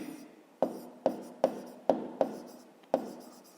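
Pen or chalk strokes writing out a fifth-grade math solution on finding a least common multiple, six sharp taps in an irregular rhythm, close and fairly quiet with no talk.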